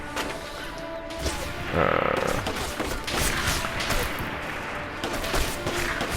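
Gunfire from the Sniper Elite V2 Remastered video game on PS4: a run of sharp, loud shot cracks and impacts with whooshing tails, spaced irregularly over the stretch with no one speaking.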